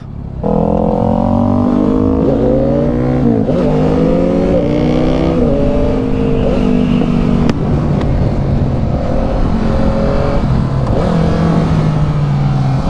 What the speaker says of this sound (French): petit test de la MT-09. On va tester le shifter, le freinage, l'accélération, un peu tout ça.